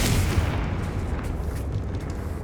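The Confringo fire spell goes off in Hogwarts Legacy as a loud, broad blast that booms at the start and rumbles away gradually, with no speech over it.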